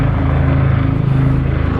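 A loud, steady propeller drone from a Fairey Swordfish biplane fills the air as it passes close by at an airshow, with no voices.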